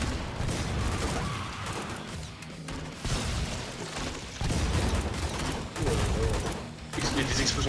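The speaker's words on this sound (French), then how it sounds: "Il y a des explosions partout, j'adore" Explosions and gunfire in Killing Floor 2, repeated heavy blasts and crackling shots piling up in dense bursts, loud and continuous with brief dips between volleys.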